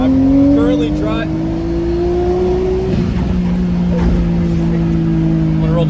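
Steady engine drone from a Nissan Skyline R32 sedan cruising on a town road, heard from inside the cabin, with a rising tone that shifts as it changes gear midway and continuous road noise underneath.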